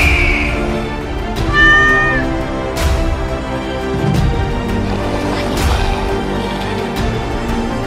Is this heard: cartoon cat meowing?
yes